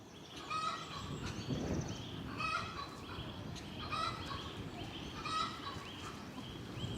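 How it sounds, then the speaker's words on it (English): Turkeys gobbling repeatedly on a homestead, several bursts of loud calls spaced a second or so apart, with other fowl chattering steadily underneath. "Such a funny animals, these turkeys."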